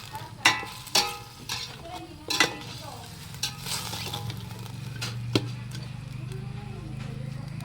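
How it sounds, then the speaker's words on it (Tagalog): Dinuguan, a pork blood stew, cooks in a pan with a steady close sizzle, broken by several sharp scrapes and knocks of a utensil stirring against the pan, and no voices. "Kapit yung dinuguan natin, niluluto na."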